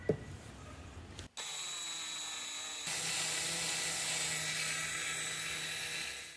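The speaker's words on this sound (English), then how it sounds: "All the holes have been drilled on this one." A power drill bores holes through a metal lifting bar during a bus conversion, with a short burst, a brief pause, then a long, loud, steady whine that runs several seconds before winding down.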